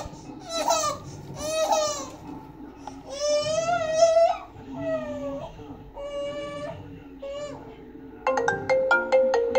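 Repeated iPhone 6S ringtone played through a faulty external speaker, its melodic tones sounding in bursts over roughly ten seconds, with a young child's whimpering cries mixed in beneath.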